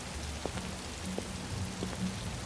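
Rain falling in Detroit: Become Human, a constant hiss of drops on surfaces with a few soft taps and low rumbles, moderately quiet and with no voices.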